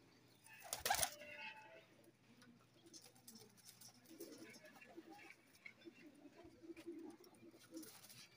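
Teddy pigeons coo softly nearby in low, murmuring coos, after a sharp, loud rustle like flapping wings or handling near the start, with quiet background noise throughout.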